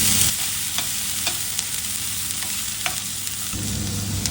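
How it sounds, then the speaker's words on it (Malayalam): Mustard seeds, chili, curry leaves and chopped garlic fry in ghee with a steady, close sizzle, punctuated by scattered sharp pops and crackles. "കടുക് ഇട്ട് കൊടുക്കാം കടുക് പൊട്ടിക്കഴിയുമ്പോൾ നമുക്ക് മുളക് കരുവേപ്പില ഇട്ട് കൊടുക്കാം"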